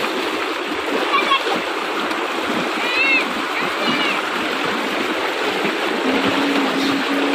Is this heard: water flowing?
yes